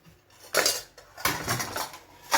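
Dishes and cutlery clatter in a few separate bursts, metal and crockery clinking together close at hand.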